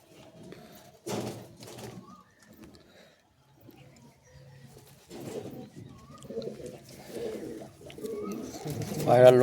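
Giribaz pigeons cooing in a home loft, a few soft, low, throaty coos that come in bursts at close range, mixed with voices talking nearby.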